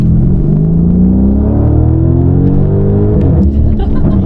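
A Lamborghini Urus SE engine pulls hard under acceleration, a loud close rumble that climbs steadily in pitch and then eases back near the end, with no voices over it.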